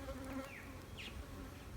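Honeybees swarm and buzz at an opened hive being split, a dense steady hum close by with individual insects droning past, alone without talk.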